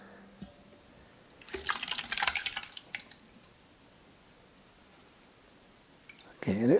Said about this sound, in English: put the filter bag on the top, pour it in.